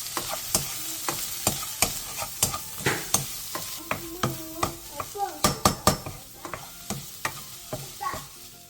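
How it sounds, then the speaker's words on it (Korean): Eggs and tomatoes stir-frying in a pan, a spatula tapping and scraping in a steady run of sharp knocks over a soft, continuous sizzle, close and clear with no talking. "계란이 3분의 2 정도 익으면 토마토를 넣고 2분 정도 더 볶아주세요."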